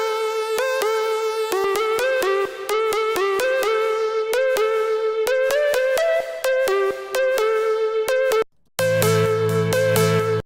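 A Sylenth synthesizer patch plays with its modulation switched off, a bright, buzzy run of staccato notes stepping through a repeating melodic pattern, then a brief gap before a fuller, held chord.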